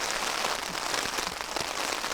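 Heavy winter rain hammers a camping tent in a dense, constant hiss with close, scattered drop impacts all through it, loud and with no one speaking.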